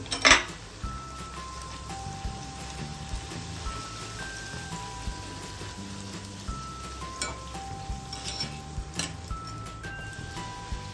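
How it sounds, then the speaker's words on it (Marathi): Bhatura dough frying in hot oil gives a steady, even crackling hiss across the whole stretch, with small louder pops. A faint melodic tone runs underneath. "आता आपण भटुरा तळून घेऊया तेल चांगलं तापलंय"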